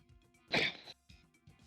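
A single sharp sneeze bursts out over quiet background sound, brief and close, followed by soft murmuring.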